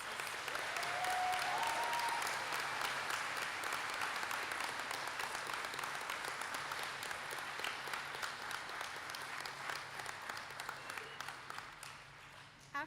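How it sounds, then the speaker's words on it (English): Sustained audience applause at a licensed practical nurses' pinning ceremony honoring the 2025 graduating class, a dense, steady wash of many hands clapping that holds for the whole stretch and fades only slightly toward the end. "Will everybody please join me in a round of applause celebrating the 2025 graduating class of licensed practical nurses."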